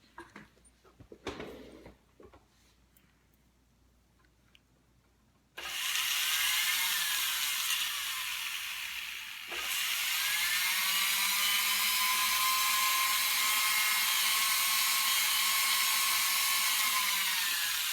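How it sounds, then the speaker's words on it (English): A Dremel rotary tool with a coarse grinding wheel shapes the edges of a silver brooch. After a few faint handling knocks, it starts up with a loud, steady high-pitched whine. The whine shifts slightly in pitch partway through and continues to the end. "I know you hate the sound of that Dremel"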